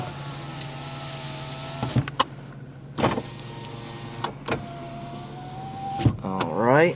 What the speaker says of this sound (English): it does have power windows